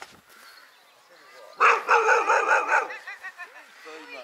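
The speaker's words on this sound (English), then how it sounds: "Oh, got a grumpy dog there, look." A grumpy dog at Clare Castle Country Park in Suffolk barks in a quick run of loud, close, gruff woofs, with quiet human voices before and after.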